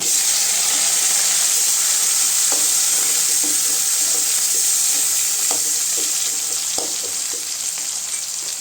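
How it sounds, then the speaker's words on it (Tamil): Onions and tomato sauté in a pan for a wheat rava kichadi, giving a steady close sizzle and hiss with occasional stirring clinks, and no talk. "வெங்காயம் நல்லா வதங்கிடுச்சுங்க. தக்காளி சேர்த்துக்கலாம்."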